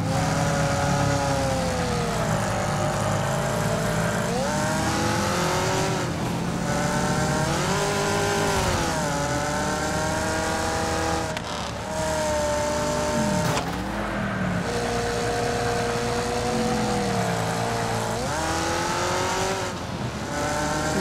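Race car engine from the Wreckfest video game revs hard and repeatedly, rising and falling through gear changes with occasional tire squeal, loud and continuous with no talking.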